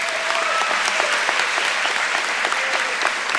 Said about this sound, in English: If you guys would give everyone a round of applause.